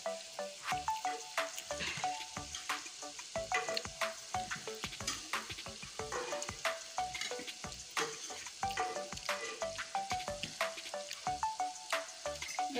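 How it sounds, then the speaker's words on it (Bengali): Jackfruit fritters sizzle steadily in hot oil, close and continuous, with frequent sharp clinks and scrapes of a utensil against the pan throughout. "এই বড়া কটাও আমি একদম লাল করে ভেজে নিয়েছি"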